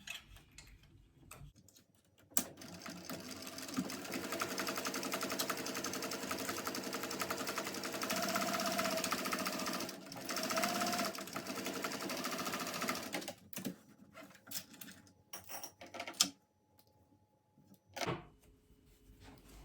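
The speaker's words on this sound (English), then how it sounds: "let's sew that together with 3/8 of an inch seam allowance as well" A sewing machine stitches a 3/8-inch seam on a crossbody bag, running in a steady quiet whir for about eleven seconds, pausing, then giving a couple of short bursts before stopping.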